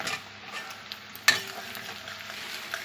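Sliced onions and potatoes fry quietly in a pan, with a soft, steady sizzle and one sharp utensil clink partway through.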